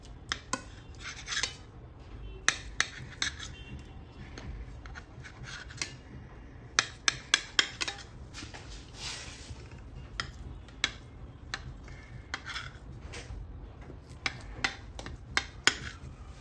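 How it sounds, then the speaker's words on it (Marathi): A knife slicing a tray of homemade Turkish delight dusted with desiccated coconut into squares, giving sharp, scattered clicks and scrapes against the plate at an irregular rhythm, quiet and close with no talking. "याच्या वड्या आता कापून घ्यायच्या आहेत।"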